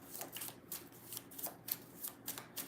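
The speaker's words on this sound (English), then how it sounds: "6 shuffles for Anna" Tarot cards being riffled and shuffled by hand, a quiet, close series of quick rhythmic rustling bursts, around a dozen in under three seconds, with no talk.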